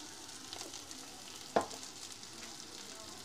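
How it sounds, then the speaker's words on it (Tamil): Spices and fish masala sauté in a pan with a soft, steady sizzle and a single sharp scrape of stirring partway through, heard close and fairly quiet with no talking. "நாம இப்போ இதை நல்லா வதக்கி விட்டுக்கலாம்."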